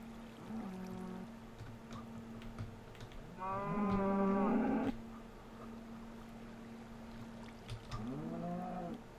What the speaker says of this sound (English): That is a loud cow.